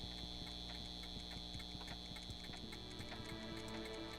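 Several clocks tick in Doc's house in the Back to the Future video game, a steady overlapping patter of soft ticks over a constant electrical hum, with no voices.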